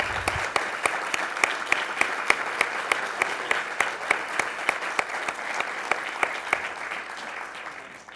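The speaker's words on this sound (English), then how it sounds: "So please join me in applauding them for being here." Steady applause from an audience, a dense wash of many hands clapping throughout, with a few sharper individual claps standing out.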